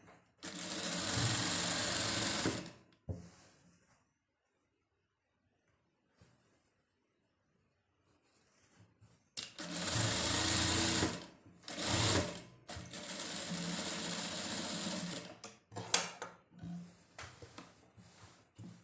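A sewing machine stitches a double seam on a suit in two bursts of rapid, close mechanical whirring separated by a long quiet gap, the second run broken into shorter stops and starts.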